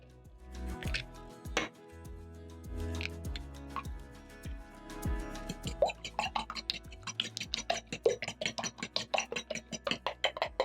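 Two eggs being whisked in a bowl for egg fried rice: close, clicking taps, loose and uneven at first, then a fast, even rhythm of sharp strokes against the bowl, with no talking.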